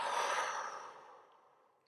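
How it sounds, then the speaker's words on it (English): A single soft, breathy exhale through the mouth, close and quiet, fading out over about a second during a guided breathing exercise. "And exhale through the mouth."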